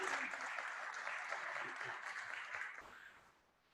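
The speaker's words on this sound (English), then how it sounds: "Let's give them a round of applause, everybody who's new." An audience at an evening meeting applauds newcomers with a warm round of clapping that holds steady, then thins and fades out near the end, sounding slightly distant.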